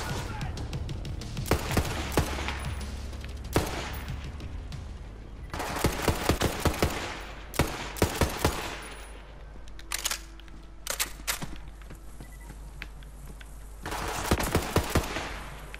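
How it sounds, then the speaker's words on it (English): Gunfire in the video game Borderlands 3 comes in repeated automatic bursts and single cracks, sharp and loud, separated by short gaps across the stretch, with a player talking now and then between the shots. "I hear more gunshots."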